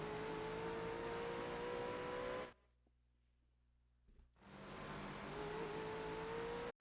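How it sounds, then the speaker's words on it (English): Race cars in a GT racing video game at Watkins Glen roar with steady engine drone and shifting pitch, cutting briefly to near-silence midway before the engine noise swells back in, continuous and loud. "Prius runs right behind and actually puts the bumper to Lud1cr0us in the heel of the boot"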